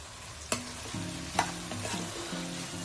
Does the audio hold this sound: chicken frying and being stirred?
yes